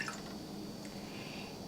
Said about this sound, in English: I'm going to put in a cup of water into a saucepan